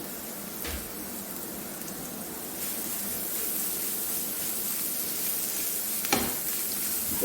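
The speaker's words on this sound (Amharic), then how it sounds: "እንደዚህ ጥብስ አደርጋለሁ።" Grated carrots sizzling with onions in a pan while chicken mashawiya cooks: a steady, close frying hiss runs throughout, with a couple of brief stirring scrapes.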